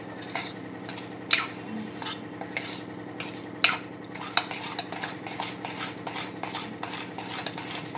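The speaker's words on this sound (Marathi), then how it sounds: "एका डायरेक्शन मध्ये हलवायचं. हे जास्त फेटून घ्यायचं." Rava dhokla batter stirred in a bowl, with a steady rhythmic scraping and swishing of a spoon against the sides and a couple of sharper clinks, close and fairly quiet.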